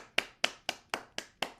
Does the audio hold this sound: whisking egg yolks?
no